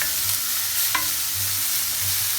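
Steady, close sizzling of food frying in a pan, a constant hiss with a few faint clicks and low hums underneath.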